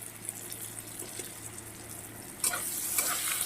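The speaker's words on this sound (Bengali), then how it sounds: "এবার এটা একটু নাড়াচাড়া করে নেব" Curry with onion and salt being stirred in a pan, a steady sizzling fry with soft scraping that turns louder and brighter about two-thirds through, with no talking.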